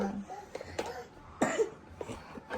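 A child coughs several times in short, raspy bursts, fairly close, with soft background sounds between the coughs.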